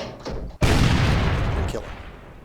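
A tank's main gun fires in an armored combat video game, one sudden loud blast with a rumbling tail that fades over about two seconds, heard alone.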